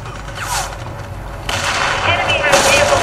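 Gunfire in the shooter Warface during a hard co-op mission, loud rapid shots and bursts with a sharp jump in intensity halfway through, continuing densely to the end.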